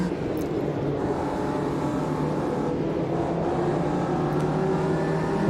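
Race cars starting a race at Silverstone in the sim racing game Automobilista 2, Ginettas among them, a dense steady engine drone of several cars accelerating together, held at constant loudness.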